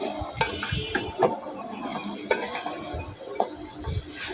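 Goat meat tossed with spices in a hot pan, a steady sizzle of frying under repeated scraping stirs, clear and close, with occasional sharper knocks of the spoon against the pot.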